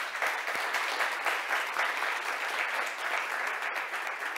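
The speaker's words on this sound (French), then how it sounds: "On les applaudit tous, s'il vous plaît" An audience at the MTL Tech Awards applauds the finalists with steady, sustained clapping that holds at an even level throughout.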